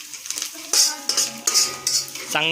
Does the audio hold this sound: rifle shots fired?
no